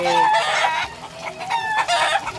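Several chickens cluck and squawk noisily at close range, overlapping in a busy, continuous chatter.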